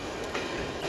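A train rumbles past close by near a riverside park, a steady broad roar of rolling railcars with faint rail clatter, no voices.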